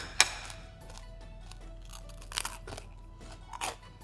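Crispy golden fried food crunches in a few sharp close bites, with a snap near the start and louder crunches around the middle and end over a quiet background.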